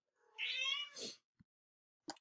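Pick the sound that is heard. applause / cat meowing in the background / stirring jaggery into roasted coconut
cat meowing in the background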